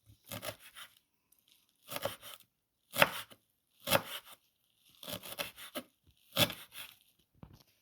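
Kitchen knife finely mincing a large bulb's worth of garlic on a board, heard as six short bursts of rapid close chopping separated by brief pauses, with no talking.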